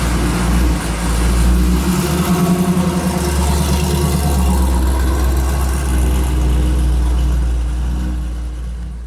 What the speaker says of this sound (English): let's fire it up and let's go for a cruise